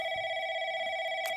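A telephone rings with a steady electronic tone that holds continuously and moderately loud throughout, with no voices over it.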